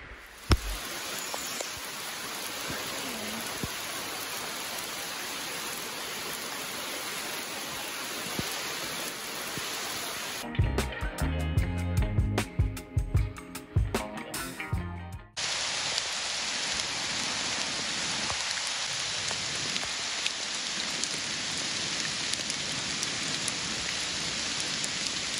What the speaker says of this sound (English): check out the stream